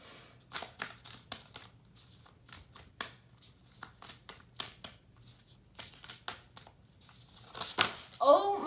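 Tarot cards being shuffled by hand in a series of quick crisp riffles and flutters, some fumbled, with a louder flurry near the end; a voice murmurs faintly underneath.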